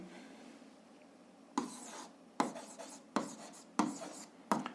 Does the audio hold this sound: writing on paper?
yes